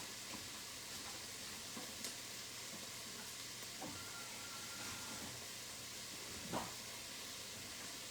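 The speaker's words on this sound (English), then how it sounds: "We're going to let that saute, cook down a little bit." Vegetables for soup sauté in a pan with a soft, steady sizzling hiss, faint and continuous, broken by a few small clicks and taps.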